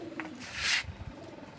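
A tiger-breed pigeon gives a short, soft coo close by, with a faint chirp and a brief rustle in an otherwise quiet setting.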